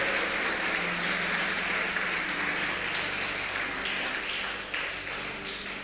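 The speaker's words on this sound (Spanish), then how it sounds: "Fuerte el aplauso para Dios." A church congregation applauds steadily for several seconds, a dense, continuous wash of clapping that fills the room and slowly tapers toward the end.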